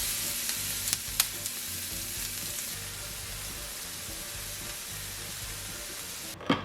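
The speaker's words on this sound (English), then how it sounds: "using your all-clad indoor grill pan or your outdoor grill, you want to grill the zucchini," Zucchini, squash and peppers sizzle loudly and steadily on an All-Clad indoor grill pan, with a few brief clicks and a sharp knock near the end.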